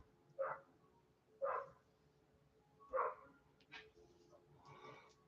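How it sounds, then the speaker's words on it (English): A dog barks in the background during a quiet indoor watercolor painting session, giving four or five evenly spaced single barks that come through fairly faint and distant. "That dog is loud"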